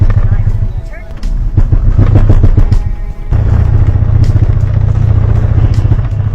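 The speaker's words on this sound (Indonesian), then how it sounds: "gejala utamanya adalah mobil menjadi tersendat dan bergetar seperti ini guys" A CVT car with a failing steel belt jerks and vibrates while driving. Loud, uneven engine and drivetrain rumble comes through with clattering bursts and a brief drop in the middle, close and harsh throughout.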